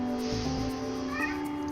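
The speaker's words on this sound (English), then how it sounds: "If you heard that, that was my cat in the background." A domestic cat meows twice in the background, short, faint tonal calls heard alone in a quiet room.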